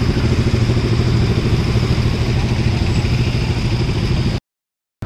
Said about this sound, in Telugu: ఇదిగో ఇవన్నీ బైక్స్ అనమాట